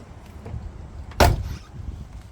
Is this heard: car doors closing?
yes